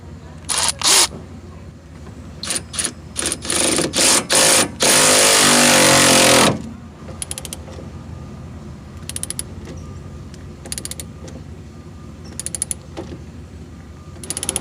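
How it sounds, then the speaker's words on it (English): A ball joint separator turned with a 22mm socket to free a ball stud from the pitman arm on a Jeep ZJ, with bursts of sharp ratcheting clicks and a loud, sustained mechanical grinding burst in the middle. "To remove the ball stud from the pitman arm, you can use a pickle fork, but I'll be using the ball joint separator with a 22mm socket instead."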